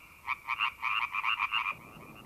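Tree frogs croak near water at night in a quick run of about ten bright, rhythmic pulses, close and clear over quiet background, then stop.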